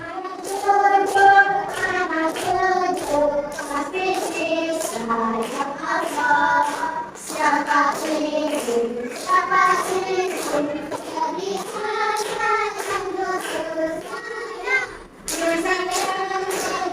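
A class of children chanting the tepuk amanah clapping routine together, voices in sing-song rhythm punctuated by sharp group claps, loud and close throughout.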